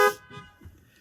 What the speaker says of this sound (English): Honk if you know what tomorrow is